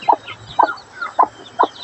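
A native-breed rooster gives four short, evenly spaced clucks, close and clear against a quiet background.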